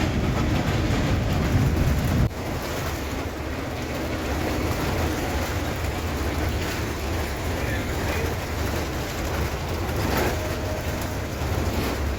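The Udayan Express from Chittagong rumbles past as it overtakes a Mercedes-Benz non-AC bus at about 60 to 70 km/h, a steady loud roar of rolling wagons heard from inside the bus.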